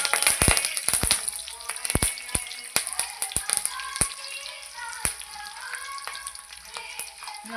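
Cumin, garlic and curry leaves sizzling in hot oil, a steady frying hiss broken by sharp irregular pops and spits, close and clear.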